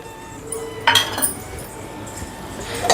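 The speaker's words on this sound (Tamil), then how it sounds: "இதை லைட்டாக கலந்து விட்டுருவோம்" A metal spoon clinks and scrapes against a pot while lightly stirring sweet corn pulao, with a few sharp taps and brief scraping strokes close by.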